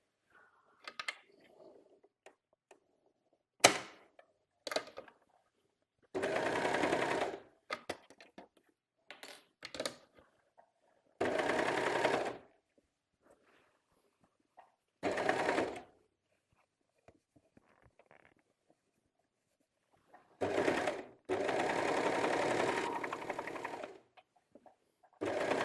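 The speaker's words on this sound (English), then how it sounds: "we're going over to our serger. So we're going to serge these side seams together" A serger sewing machine serging the side seams of a T-shirt runs in several short bursts of fast whirring stitching, separated by quiet pauses with small clicks and handling sounds.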